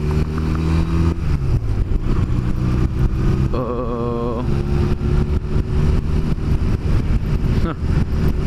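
A motorcycle being ridden, its engine droning steadily with shifting revs under wind noise, while the rider talks over it throughout.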